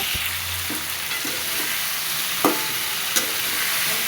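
Bori (lentil dumplings) and brinjal frying in hot oil, an even dense sizzle with a few sharp stirring clicks and scrapes scattered through.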